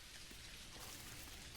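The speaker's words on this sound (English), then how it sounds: "Oh my gosh, it's raining." Steady rain falls across a farming island in the video game Dinkum, an even, moderately faint hiss of drops with no voices.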